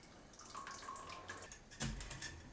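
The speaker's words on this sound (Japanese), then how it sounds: "これを今度はこちらの瓶にかけて約10秒以上ですね、かけていきます。" Hot water above 80 degrees is poured over a glass jar to warm it before pickling rakkyo, giving a close, steady splashing stream with a louder gush near the end.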